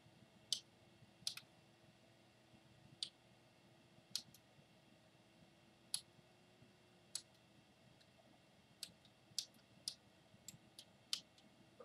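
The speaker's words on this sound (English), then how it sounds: "Clicky buttons." Buttons on a 3D printer click sharply one at a time at irregular intervals, each press brief and crisp against a quiet background hum, about a dozen presses in all.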